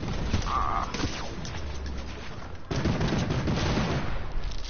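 A mountain turret firing in a video game, with dense rapid gunfire and mechanical clatter throughout and a brief tonal beep early on, loud and continuous with no talk.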